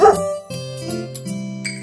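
A dog yips and barks over a bouncy backing track in a French children's farm song, several short barks in quick succession, up front and clear.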